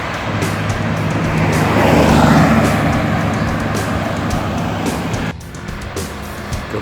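Intercity bus pulling away from a terminal bound for Jakarta, a loud broad engine roar with passing traffic noise that swells and then eases, with a sharp change near the end.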